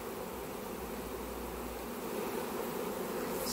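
Honeybees in an open hive, filled with dark nectar, make a dense, steady buzz that is near and continuous and swells slightly toward the end, with no voices.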